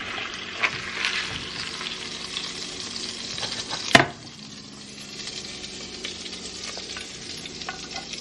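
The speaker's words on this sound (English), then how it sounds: "And again, let that cook and brown." Cornish hen browning in a Dutch oven, a steady close sizzle and crackle of frying running throughout, with a sharp metallic clank near the middle and occasional faint utensil scrapes.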